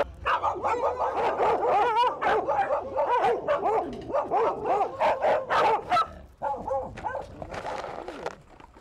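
Polish Lowland Sheepdogs, guard dogs, bark rapidly and continuously at close range, several loud overlapping barks with brief yips and a short pause near the end.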